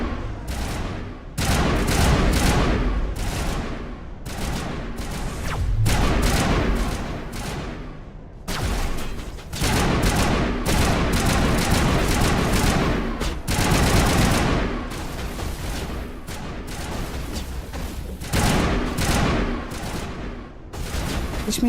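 Sustained assault rifle fire in the video game Mass Effect Legendary Edition: loud, dense bursts of rapid gunshots rolling almost continuously, with a few brief pauses between volleys.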